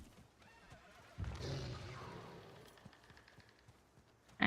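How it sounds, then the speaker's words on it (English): A horse in Diablo IV lets out a loud, drawn-out whinny as it is mounted, starting abruptly and fading over about two seconds, followed by a quiet stretch and a sudden sharp burst at the end. "The noise when you get on the horse is so loud."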